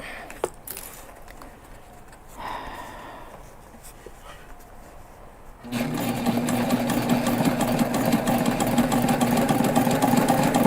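Sewing machine stitching a long side seam of a backpack at a five-eighths inch allowance, starting after a quiet pause around six seconds in and then running steadily and loudly to the end.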